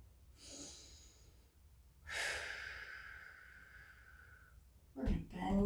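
Slow breathing during a stick mobility backbend and hip-opener stretch: a long hissing exhale, a pause, then another drawn-out breath, close and fairly soft, ending in a brief sharper sniff.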